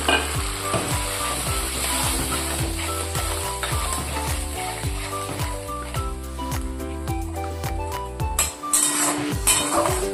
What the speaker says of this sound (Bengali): সামান্য একটু জল দিয়ে দেবো, যাতে মশলাটা না পুড়ে যায়